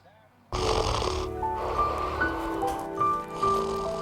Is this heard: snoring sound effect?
yes